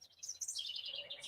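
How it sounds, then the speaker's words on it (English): Small birds chirp and tweet outdoors in a quick, high flutter of calls, faint and somewhat distant against a quiet background. "you can hear the birds chirping"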